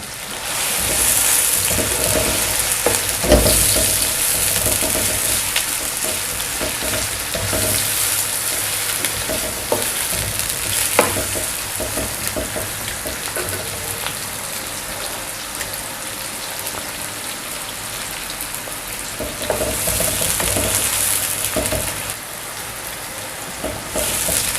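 A large onion fries in a pan for a Pakistani keema matar dish, giving a steady, loud sizzle with bubbling crackle and occasional stirring clatter, continuous throughout with no talk.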